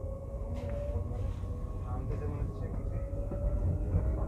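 A Vande Bharat sleeper train begins pulling out with a low rolling rumble and faint rail clatter, while people talk nearby.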